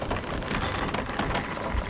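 Dense rain pours down during a storm at sea in the pirate video game Sea of Thieves, a steady hiss and patter with no voices.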